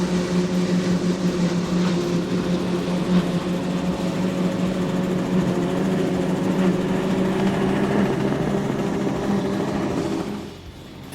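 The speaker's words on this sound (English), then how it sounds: "The engines are V10 Ilmors." Steady, loud drone of twin Ilmor V10 powerboat engines with a constant low hum, running continuously before dropping off abruptly near the end; no talking.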